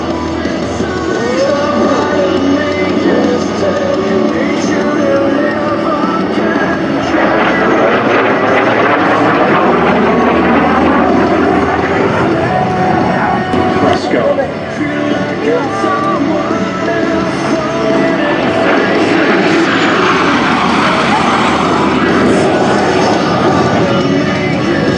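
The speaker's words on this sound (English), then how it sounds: "Continuing to climb into the vertical, giving us another great look at this cherry red MiG-17, the iconic bandit of the Vietnam War." A cherry red MiG-17 jet climbing into the vertical at the Wings Over Solano air show: a loud, steady engine roar fills the whole span without letting up, heard over open air.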